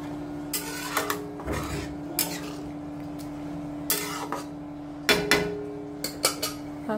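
Boiled dal being stirred into spice masala in a pan: repeated metallic scrapes and knocks of a spoon against the pan over a low steady hum, irregular and close.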